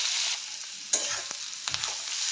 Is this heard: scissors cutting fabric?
no